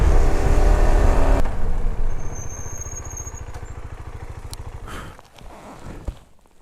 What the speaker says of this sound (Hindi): we are accelerating hard